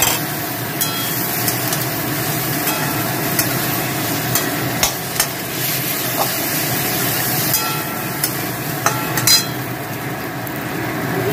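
Potatoes fry in hot oil in a pan for a vegetarian jackfruit curry, a steady close sizzle with occasional scraping clicks of stirring.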